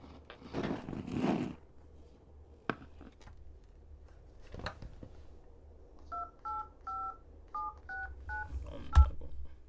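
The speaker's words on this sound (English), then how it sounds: "Detective Romero decided to contact the witness's mother again, this time by phone" A telephone keypad is dialed, a quick run of about eight electronic touch-tone beeps in an uneven rhythm, preceded by rustling handling noises and scattered clicks, with no voices.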